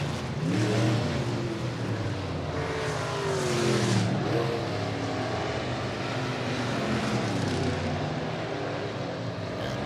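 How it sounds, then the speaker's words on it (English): Stock cars race in a heat at Boone Speedway, a dirt oval in Iowa, giving a continuous loud engine roar. It swells and fades as the cars sweep past, with no talk over it. "Getting ready to go heat races 21 to 30 in this session. The final 10 heat races for the stock car division."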